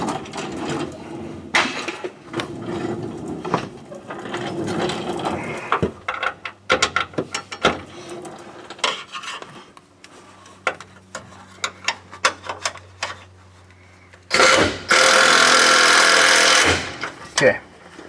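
An impact wrench tightens the bypass filter bracket on a 2000 Ford F-350, a loud broadband burst of about two seconds near the end, after clattering tool and mechanism sounds with talk underneath.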